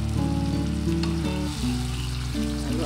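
Bruised lemongrass, bruised galangal, bay leaves and lime leaves sizzle steadily as they are stirred in a hot pan for cassava-leaf gulai, with tonal background music playing over the frying.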